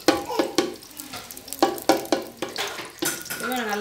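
Oil or butter heats and sizzles in a pot for popcorn, with stirring clatter and repeated utensil knocks against the pot, close and steady, and a voice briefly audible.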